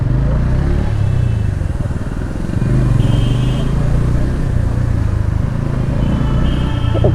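A motorcycle idles and creeps through a heavy traffic jam near a big market, its steady engine rumble close and loud, with surrounding vehicle noise and a brief horn-like tone.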